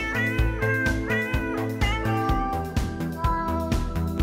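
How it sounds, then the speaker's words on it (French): Two cats meow and caterwaul back and forth in a sustained, pitched duet, loud and close, with rising and falling wavering calls overlapping one another. "voici la vidéo de Deux chats qui chantent"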